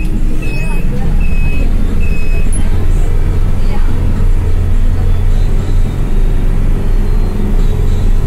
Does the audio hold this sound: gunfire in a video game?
no